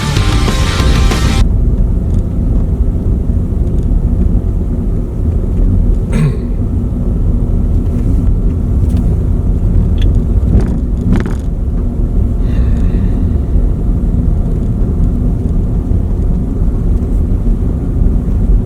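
A car is driven in a steady, loud, low rumble that carries on throughout, with a few brief knocks and clicks inside the cabin.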